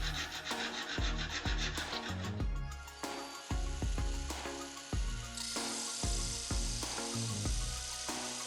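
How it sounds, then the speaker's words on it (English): An aluminium LED lighting profile for under-cabinet kitchen lighting is sawn to size with repeated rhythmic strokes, close and fairly loud, each pass with a scraping tone. "Cut off the profile and make holes for wiring."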